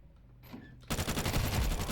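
Dense, loud bursts of rapid automatic gunfire in a shooting video game erupt abruptly after a quieter stretch and continue without a break to the end.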